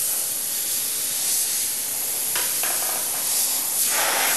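Dual-action airbrush spraying a fine line held close to paper, a steady airy hiss running the whole time with brief dips and swells as the trigger is worked.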